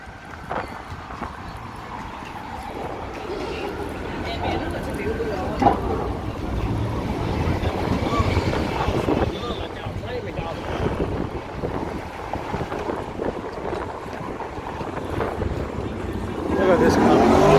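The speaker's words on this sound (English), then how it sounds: "Now it's getting windy again." Gusty wind buffets the microphone on Michigan Avenue in downtown Chicago, a steady rumbling roar that swells near the end, mixed with city street noise and some talking.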